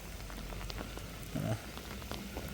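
Steady rain patters softly and evenly on a tent, a quiet continuous hiss of drops falling nearby with no voices.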